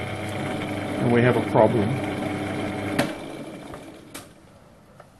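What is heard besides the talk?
lathe running in bottom gear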